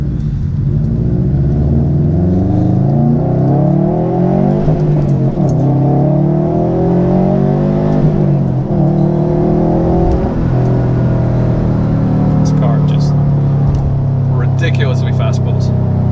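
A 2019 Subaru WRX STi with about 8,815 miles pulls hard under acceleration, its engine rumbling loud and steady as the pitch climbs through repeated rising sweeps, with faint clicks and wind near the end.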